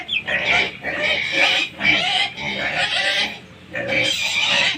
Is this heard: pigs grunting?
yes